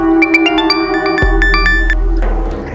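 A phone ringtone plays as a bright, repeating electronic melody, close and fairly loud, ending with a low thump partway through.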